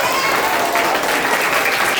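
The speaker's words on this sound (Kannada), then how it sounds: "ಜೋರ ಚಪ್ಪಾಳೆ ರಾಮಯ್ಯ ಸರ್ಗೆ." Schoolchildren at a government school program break into loud, steady applause, a dense crowd of clapping hands sustained without pause throughout, close and full.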